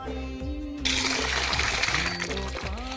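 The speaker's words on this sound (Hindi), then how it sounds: "ये देखो भर गई मेरी यहाँ पे पानी की बाल्टी" Water pouring into a bucket, a continuous splashing gush that starts partway in, under a voice speaking in Hindi.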